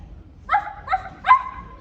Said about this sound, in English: Don't interrupt when someone's barking.